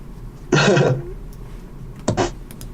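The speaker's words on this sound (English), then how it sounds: "I unplugged my mic so I could blow my nose because it was starting to get like congested" A congested person blows their nose into a tissue in two bursts, a long loud honk followed about a second later by a shorter snort, close to the microphone with no talking.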